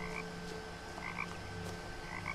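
Frogs croak in the video game What Remains of Edith Finch, with soft repeated croaks in an irregular rhythm against a quiet, steady night-time background.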